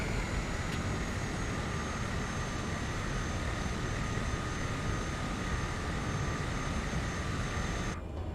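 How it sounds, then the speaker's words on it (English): A light STOL aircraft's engine drones steadily at full power during takeoff from a short Himalayan runway, a loud continuous roar with a whining tonal hum, easing slightly at the very end. "we're going to take off basically the same direction we landed, because that's got the largest headwind components"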